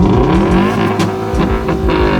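A Hyundai Tiburon's exhaust revving hard close by, a loud rising and falling engine roar with quick throttle blips toward the redline, filling the short burst with no voices.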